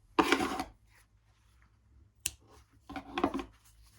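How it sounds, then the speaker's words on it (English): Scissors snip through yarn while finishing a crocheted keychain: two short, quiet cutting bursts a few seconds apart, with faint handling noise between them. "Now I'm gonna cut the yarn."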